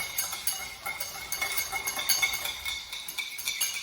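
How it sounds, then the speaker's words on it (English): A whisk clinks rapidly against a bowl while mixing sauce for salmon cakes, a quick, steady run of light metallic taps, close and moderately quiet, with no talking. "just give it a whirl with this whisk. Just mix that together."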